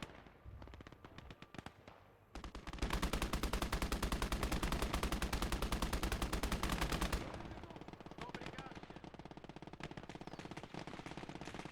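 MG42 machine gun fire rattles out in the Gates of Hell wartime game: scattered shots, then a long, loud sustained burst, followed by quieter continuing gunfire in the background.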